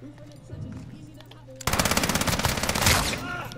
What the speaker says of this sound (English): I got the mini gun, aka the firewall.